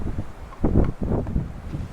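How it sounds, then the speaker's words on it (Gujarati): Strong wind buffets the microphone outdoors among trees and crops, a steady low roar with gusty surges and rustling, close and loud. "અતિ પવન છે."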